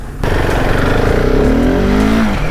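A 2022 Husqvarna 701 Supermoto single-cylinder engine roars loud and close during a wheelie, kicking in abruptly and rising steadily in pitch under hard acceleration before easing at the end.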